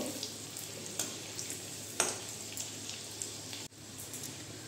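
Onion pakoras frying slowly in oil over reduced heat, a soft continuous bubbling sizzle with scattered small pops and an occasional clink, fairly faint and close, no speech.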